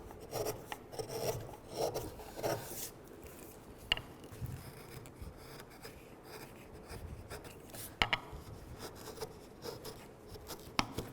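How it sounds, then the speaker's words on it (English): A sharp chisel shaves and pares curly maple while carving a wooden shell, giving repeated close scraping, rasping strokes with short pauses and occasional sharper catches, with no talk. "A sharp chisel leaves shiny surface behind."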